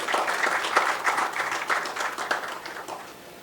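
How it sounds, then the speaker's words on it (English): Audience applauds a mining executive as he walks onstage at a corporate event, a moderately loud, continuous spatter of clapping that gradually tapers off toward the end. "Please applaud him while he comes on stage."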